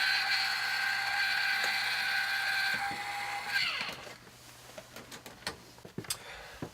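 Motorized mechanism in an Airstream travel trailer automatically retracting and closing, a steady whirring grind that winds down and stops, then a few sharp clicks and knocks as it settles.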